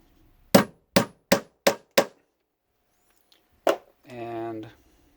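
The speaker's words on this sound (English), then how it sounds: "whack it a couple of times with a hammer," A hammer strikes a cork sheet five times in quick, evenly spaced sharp thwacks, then once more after a pause, followed by a short voiced sound.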